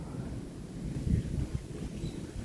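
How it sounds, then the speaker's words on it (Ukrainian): Strong wind from a severe thunderstorm in Kyiv region buffets the microphone in low, rumbling gusts, with one heavier surge in the middle. "Чуєте? Капець вітер."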